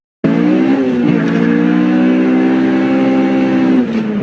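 Honda Civic EG with a swapped Type R engine revs hard during a launch-control run, a loud, sustained high-revving engine tone that rises and holds steady for about four seconds before easing off slightly.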